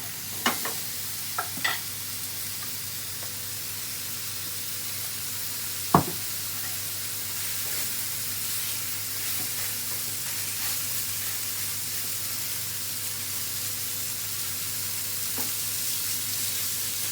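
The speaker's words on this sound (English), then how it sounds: "Keep tossing the mushrooms and the onions." Steak, mushrooms and onions fry in a pan with a steady faint sizzle. A few light knocks and stirring taps come near the start, and one sharper knock lands partway through. No one speaks.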